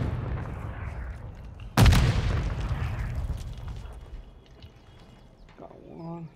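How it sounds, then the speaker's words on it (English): A grenade explosion in the video game Call of Duty on PS5: one sudden loud blast that rolls into a rumbling tail and slowly fades, with players talking over game noise. "Toss a grenade!"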